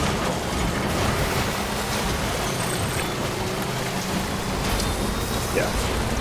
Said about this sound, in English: So the truck will start degrading in this rain